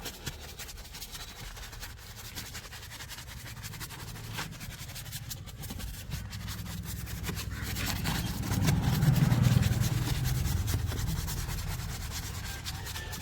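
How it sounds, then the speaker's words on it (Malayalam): A brush scrubs across car upholstery inside a car interior during cleaning, a steady soft rubbing and swishing that builds louder toward the end, heard alone without speech. "ജസ്റ്റ് ഒന്ന് ബ്രഷ് ചെയ്ത് കൊടുക്കുക അതായത് ഇങ്ങനെ ഒന്ന് എല്ലായിടത്തേക്കും ഒന്ന് ആക്കി ഒന്ന് ഉരച്ചു കൊടുക്കുക"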